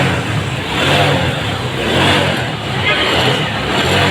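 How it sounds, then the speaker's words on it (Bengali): A TVS Metro motorcycle engine fires up after a kick-start and keeps running in a loud, steady mid-pitched idle with slight surges, heard close up in a workshop setting. "এই যে কিক দেওয়ার পরে দেখুন বাইকটি স্টার্ট।"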